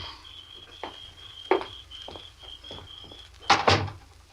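An unlocked house door is opened: a few soft clicks and handling knocks, then a louder latch clunk and creak near the end, with a faint steady high whine in the background.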